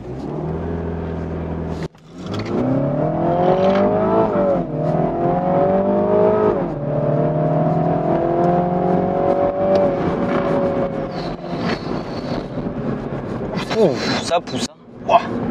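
A Mini Cooper S launches hard from inside the cabin, its engine climbing through several gears with loud, rising pulls and shift breaks, while people talk over the noise.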